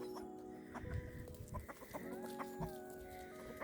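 Farm chickens being fed on icy ground cluck and squawk in quick, overlapping calls, close and lively, with small scratching and pecking noises between them.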